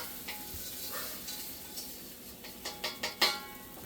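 Vegetables stir-frying in avocado oil in a hot pan, with a steady sizzle under a run of scraping stirs and clinks that sharpen toward the end, close up with no talk.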